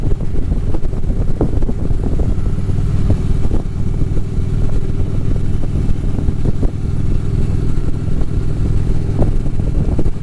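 A motorcycle cruises along a country road in western Racine County with a steady engine drone and heavy wind buffeting the microphone, continuous and loud throughout.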